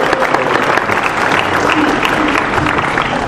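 An audience at an evening lecture on Reconstruction breaks into steady, full applause, a dense and even roar of clapping with a faint murmur of voices beneath.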